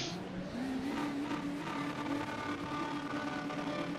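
Car in a racing video game pulling away hard, engine tone rising and revving steadily at moderate level, with a faint tire squeal and no talk.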